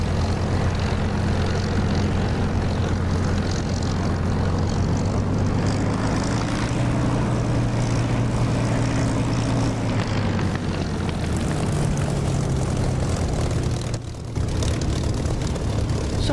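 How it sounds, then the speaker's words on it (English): A Spitfire propeller fighter in the DCS flight simulator drones loud and steady with a deep engine roar. Its pitch shifts slightly midway, and the engine dips briefly near the end. There is no speech. "a reasonable demonstration of the Spitfire, which I love dearly"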